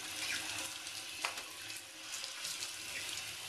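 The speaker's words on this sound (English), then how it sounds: "And then I'm just giving everything a quick rinse." Tap water runs steadily as a bathtub and sink are rinsed during bathroom cleaning, a continuous close hiss and splash with small shifts as the stream hits surfaces.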